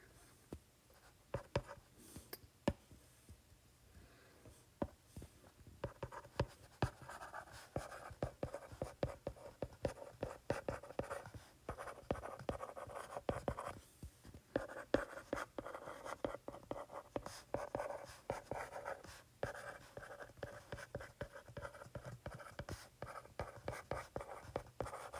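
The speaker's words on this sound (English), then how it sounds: "I don't want to shortcut what I'm writing." A pen writes on paper: close, quiet scratching strokes in irregular bursts with brief pauses, continuing steadily throughout with no talk.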